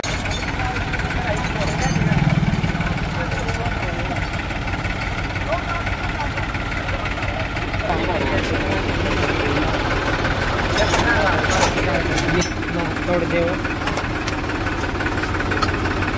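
A heavy tractor engine idles nearby with a steady, knocking chug throughout, while voices talk over it.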